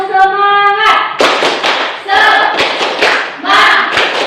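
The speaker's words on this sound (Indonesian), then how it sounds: "tepuk semangat" A classroom of students performs a rhythmic spirit clap together, loud and close: sharp unison claps in a quick patterned sequence, with children's voices chanting along between the beats.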